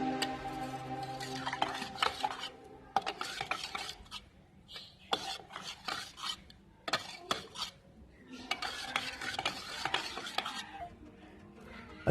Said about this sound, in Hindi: तो अच्छी तरह से हम इसे मिक्स करेंगे